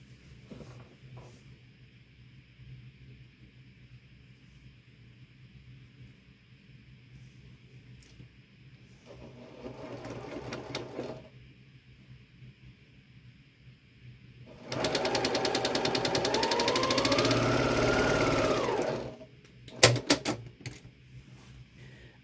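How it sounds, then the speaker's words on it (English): A sewing machine stitching a diagonal seam across quilt fabric, corner to corner, runs in short bursts, then a longer loud rapid whir near the end, with quiet handling noises between runs. "So I'm going to sew from the top left now to the bottom right."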